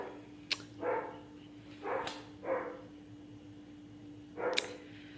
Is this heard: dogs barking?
yes